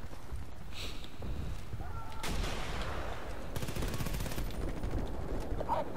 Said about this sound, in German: Und ich werde von allen Seiten beschossen und bemörsert